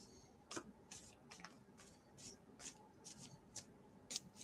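A deck of index cards is shuffled by hand in a series of quick, close riffling bursts with soft paper flicks between them, faint and intimate in a quiet room.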